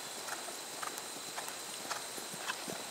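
Horse hooves clip-clopping at a walk on a cross-country schooling course, soft regular footfalls over a steady background hiss, no talk.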